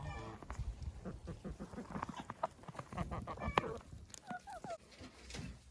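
Hens in a poultry house cluck and squawk in short irregular bursts over a busy low background, with a few higher trilling calls near the end.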